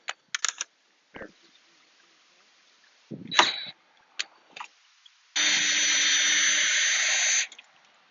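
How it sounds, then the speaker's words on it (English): Short bursts of a DeWalt cordless drill whirring as it removes bolts during a hard top to soft top swap, a few quick spins with pauses between, then a longer sustained loud run near the end. "I just get the tool out in my DeWalt drill"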